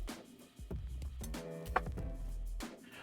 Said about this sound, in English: While we're chopping things, we're also gonna do up our green onions.